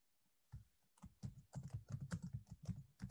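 Quick, close keystrokes on a computer keyboard, starting after a short silence and continuing in an uneven patter of soft clicks for a few seconds.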